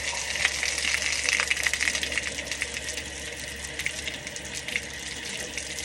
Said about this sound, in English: pulling the relief valve and just dumping the water out of the system